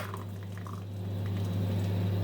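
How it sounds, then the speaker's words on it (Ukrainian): Just-boiled kettle water is poured into a cup over a coffee bag. A quiet, steady liquid trickle runs over a low hum, with no voices. "Так, закипів чайник. Я заливаю."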